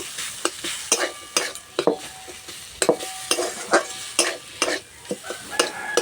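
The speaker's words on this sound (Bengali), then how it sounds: "খুন্তি করে এইভাবে একটু ঘেঁটে দেবো।" A spatula repeatedly scrapes and stirs a vegetable filling seasoned with Maggi masala in a pan, sounding as a series of sharp, close metallic scrapes and clacks over a soft sizzle.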